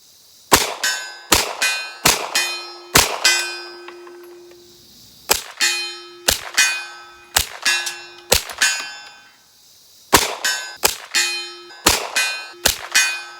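Suppressed 9mm shots of 147 grain ammunition from a Kel-Tec Sub 2000 carbine fitted with a Dead Air Mojave 45 suppressor, sharp cracks with a ringing metallic ping after each, fired in quick strings of four or five with pauses.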